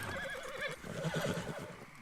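In Red Dead Redemption 2, a horse stuck up in a tree lets out a loud, wavering whinny that rises and falls, with a second shorter neigh following.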